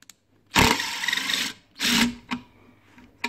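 A cordless impact driver that switches to hammer action under resistance buzzes and rattles in a long burst, then two shorter bursts, with quiet gaps and faint clicks between.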